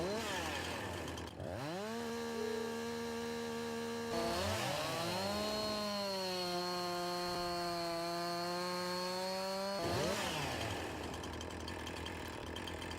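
A chainsaw in Farming Simulator 19 cuts a small log, its engine revving up and holding a steady whining pitch during the cut before dropping back to idle, loud and continuous with no talk.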